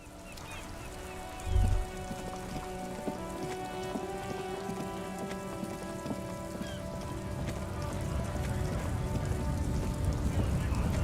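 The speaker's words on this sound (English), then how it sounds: "This rain will not let up anytime soon." Steady rain falls in the video game Disco Elysium, a dense continuous patter over layered ambient music tones, growing slightly louder toward the end after a brief low thud near the start.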